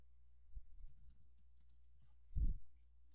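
Computer keyboard keys clack under quick presses during play of the Crash game, a few faint close taps followed by a louder burst of clicks near the end.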